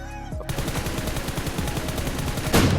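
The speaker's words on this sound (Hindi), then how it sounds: "पीछे से बोट भी फायर कर रहा है और ये भी फायर कर रहा है।" Rapid automatic gunfire in the mobile battle royale game PUBG Mobile, a dense continuous burst of shots lasting a few seconds, loud and close, with a louder blast near the end.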